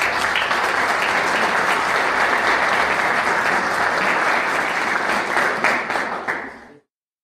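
An audience at a talk on wealth creation and progress in Bolivia breaks into sustained, dense applause, loud and continuous, then tapering off over the last second before cutting out.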